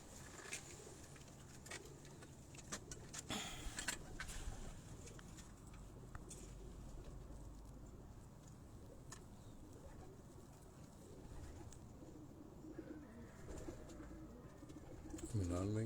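Pigeons coo faintly in a loft setting amid low background noise, with occasional sharp knocks and rustles and a louder burst near the end.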